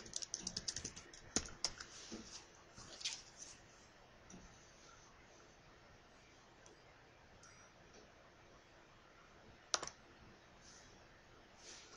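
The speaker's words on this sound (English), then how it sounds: "I'm going to type chef hat" Keys on a computer keyboard tapped while entering a search term in Word 2007, heard as quiet, sparse bursts of clicks early on, then near silence broken by one sharper click later.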